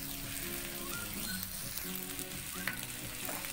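Vegetables frying in a pan for fried rice make a dense, continuous sizzle with scattered crackles, close and steady throughout, with tonal background sounds layered underneath.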